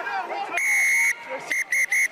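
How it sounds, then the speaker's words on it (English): Referee's whistle at an England versus South Africa under-20 rugby championship match: one long piercing blast followed by three short sharp blasts, loud and close over faint crowd noise. "It's never good when the referee goes beep, beep."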